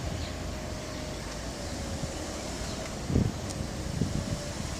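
Outdoor wind buffets the microphone during a sunny open-air window film job, a steady rushing roar with a couple of brief low gusts and no speech.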